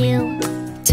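A cat gives a single short, close meow that slides downward, standing out clearly and briefly on its own.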